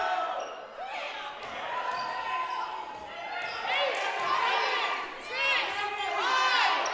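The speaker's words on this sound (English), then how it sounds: "Crowd starting to get loud here." Spectators at a women's college basketball game grow louder, a crowd of voices swelling and shouting over several seconds, with a commentator speaking over the noise.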